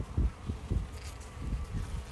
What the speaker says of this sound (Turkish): Bakın şu erkek arımız.